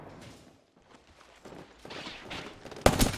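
Video game gunfire in a battle royale match, scattered muffled shots building to a loud, sharp burst near the end, with little talk over it.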